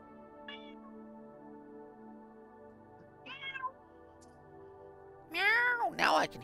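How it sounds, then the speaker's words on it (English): A cat meows several times at close range, brief calls at first, then a louder, drawn-out meow near the end over a low steady hum. "Meow! Now I can hear it."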